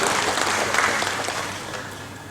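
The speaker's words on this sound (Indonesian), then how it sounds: "Tepuk tangan untuk Indonesia." A political gathering's audience claps for Indonesia at a party leadership inauguration, a loud, dense burst of applause that holds steady and then tapers slightly.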